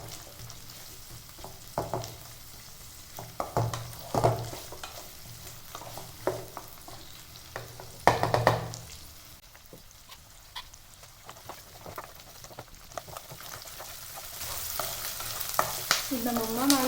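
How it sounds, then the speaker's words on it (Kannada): Ingredients for a village-style greens sambar fry and get stirred in a pan, an uneven sizzle broken by scraping and clattering bursts, quieter in the middle and swelling again toward the end, with no talk. "ಚೆನ್ನಾಗಿ ಫ್ರೈ ಆಗ್ತಾ ಇದೆ, ಫ್ಲೇವರ್ ಬರ್ತಾ ಇದೆ ಚೆನ್ನಾಗಿ, ತುಂಬಾ ಚೆನ್ನಾಗಿ ಫ್ರೈ ಬರ್ತಾ ಇದೆ"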